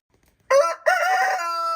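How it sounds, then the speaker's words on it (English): A single loud Rhode Island rooster crow, close by, with a short break before the long drawn-out final note. "I have a problem with our Rhode Island rooster, Big Red, and his tail feathers."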